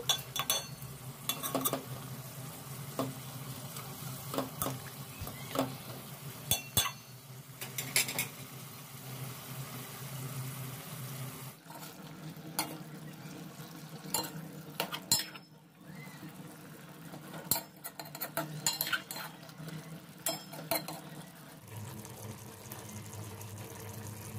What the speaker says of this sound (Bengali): তারপরে মশলাগুলোর সাথে আমি ভালো করে কষিয়ে নিচ্ছি।